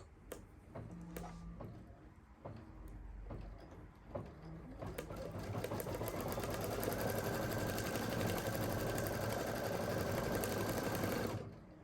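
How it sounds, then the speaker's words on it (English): An embroidery sewing machine stitches spider legs in black thread. After a few scattered clicks and taps it starts up and runs as a steady, fast, close mechanical whirr and rattle, then stops abruptly. "this is where it's gonna stitch your little spider legs"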